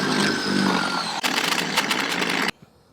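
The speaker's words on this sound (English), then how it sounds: "Now I'm going to drill these out from the back." A power drill bores out the holes of a Beadgrip wheel from the back, whining loudly and steadily in two bursts before cutting off into near silence.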